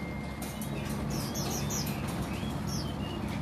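A pet bird kept for four years chirps in short, faint calls against a steady, hissy background, with no voices.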